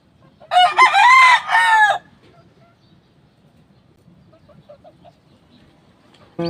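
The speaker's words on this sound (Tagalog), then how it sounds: "2 times winner na yan, mga Cattle Brothers, na ating broodcock." A two-time-winning broodcock rooster crows once, loud and close, a drawn-out cock-a-doodle-doo, followed by quiet background with faint clucks and a brief sound cut off at the end.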